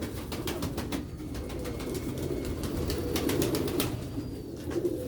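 Cooing from large Sialkoti pigeons in a coop: a steady run of soft, throaty coos repeating close by, with sharp clicks and rustles scattered over them.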